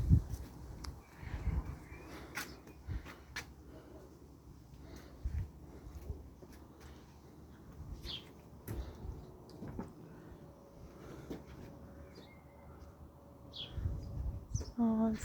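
Small garden birds chirp and tweet on a cloudy morning, with scattered short calls near and far over a soft outdoor background, interrupted by occasional knocks and low thumps.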